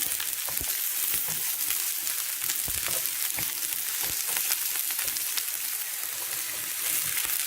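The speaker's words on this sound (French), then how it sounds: "Après 2-3 minutes, j'ajoute le chou. Alors là, c'est toujours sur feu doux" Cabbage sizzles and fries in a pan over low heat, a steady soft crackle with occasional sharper pops throughout, close and even, no talking.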